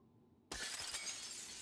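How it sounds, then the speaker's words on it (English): Glass shatters in the sci-fi video game Prey Mooncrash, a single loud, sudden crash that breaks out of near silence and trails off into a bright tinkling spray of falling shards. "Good thing he didn't hear the glass shattering"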